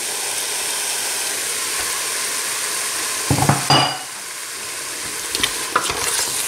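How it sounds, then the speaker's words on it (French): A spoon stirs a pot of browned meat with grated tomato over a steady, loud sizzle, with a few scraping knocks against the pot partway through. "Je mélange ma marmite"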